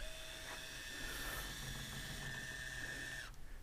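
Electric power trim on a C-Dory 22 boat tilting the outboard motor, a steady whining motor hum with a high tone that runs for about three seconds and then cuts off abruptly.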